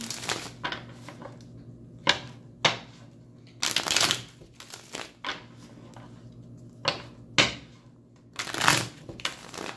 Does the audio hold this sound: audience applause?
no